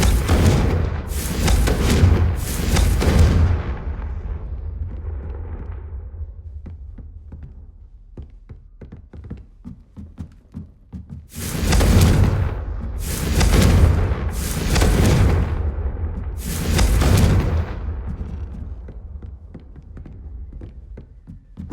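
Repeated Confringo fire-spell explosions in the Hogwarts Legacy video game, with loud, deep booming blasts in two bursts: two or three early ones, then four in quick succession after a rumbling lull.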